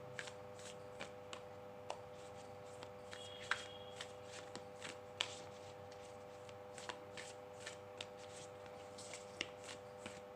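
A tarot card deck is shuffled and cut by hand, producing a steady series of soft, close card riffles and light taps that repeat evenly against a quiet background.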